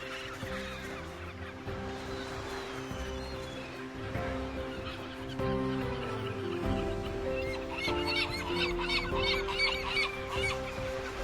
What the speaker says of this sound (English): Their massive colonies are home to thousands of nesting birds.